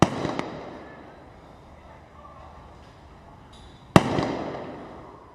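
Rifle shots from a sniper at targets during a SWAT team competition: one sharp crack at the start and a second loud report near the end, each followed by a decaying echo over a quiet outdoor background.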